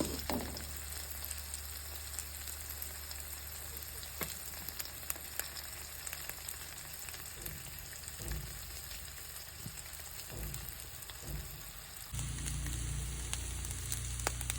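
Eggs with spring onion greens fry in a pan with a soft, steady sizzle that stays constant and faint, with no voices.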